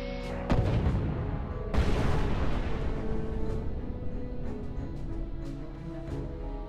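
An OV-10 Bronco light attack aircraft fires its weapons in a combat strike, giving loud, heavy bursts and booming explosions over a continuous roaring rumble, with a big blast near the start and another about a second later.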